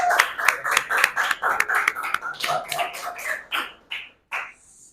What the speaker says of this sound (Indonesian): Bagus ya, tepuk tangan untuk ungkapan dari Bila.